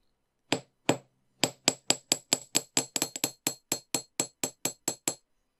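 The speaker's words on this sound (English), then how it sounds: "And carefully hammer the ends." A small hammer taps the wire ends of a wire-wrapped heart pendant: about sixteen sharp, clean metallic strikes in a fairly even rhythm, close and alone after two spaced opening hits.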